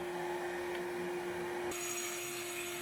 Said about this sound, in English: This is a small grinding wheel, and I wouldn't want to tackle a large project with this, but it is doing the job